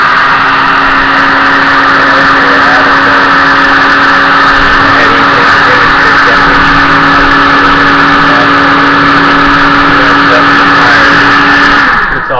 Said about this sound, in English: This is an old air pump for a air mattress,